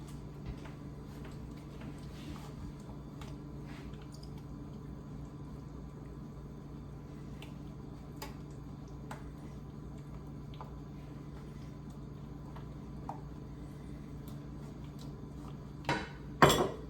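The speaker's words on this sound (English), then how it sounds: "I'm just gonna mix this up. Make that sauce." Sauce being mixed in a bowl, quiet scattered clinks and taps of a utensil against the dish over a low steady hum, ending with a few louder knocks.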